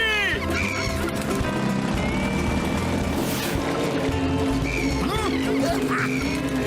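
Cartoon birds in a Motu Patlu animated scene, a dense flock of duck-like quacks and clucking calls repeating over steady background music and effects, loud and busy throughout.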